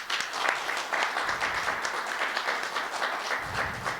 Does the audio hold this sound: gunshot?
no